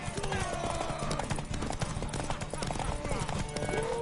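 Horse hooves clip-clop steadily in a video game, a busy rhythmic clatter under constant game music and noise, with voices talking over it.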